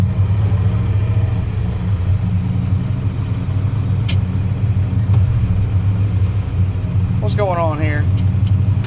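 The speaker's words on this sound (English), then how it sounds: "let's go blast this rig down the road at 65, 75, 85 miles an hour and just see" A 1976 Ford F-250 truck drives down the road with a loud, steady engine rumble and road noise throughout, and someone speaks briefly over it.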